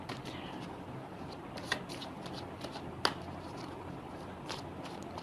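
Tarot cards shuffled by hand during a horoscope reading, a steady soft riffling texture with a few sharper snaps of the deck, close and fairly quiet with no talking.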